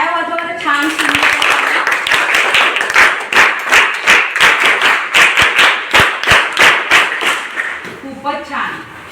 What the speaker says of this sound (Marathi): चला सगळ्यांसाठी एक टाळ्या वाजवा बरं.